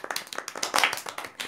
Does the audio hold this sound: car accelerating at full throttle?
no